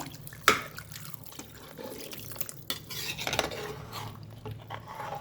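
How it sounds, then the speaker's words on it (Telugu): Rinse water from a mixer jar poured into a pan of potato kurma, a faint trickle and splash with a sharp clink of the vessel at the start, then soft liquid sounds in a quiet kitchen. "ఇప్పుడు ఆ నీళ్ళు పోసుకుంటున్నాను"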